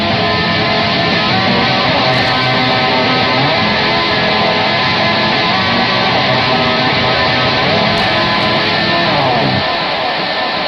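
Electric guitar in a custom tuning rings out a lush, sustained chord, dense and loud throughout with a thick wash of overtones, playing alone without any voice.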